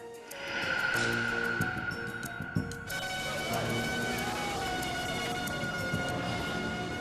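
Wailing ambulance sirens at a bomb blast scene in Kuta Beach, Bali, loud and close, several sirens overlapping and cycling continuously with traffic noise beneath.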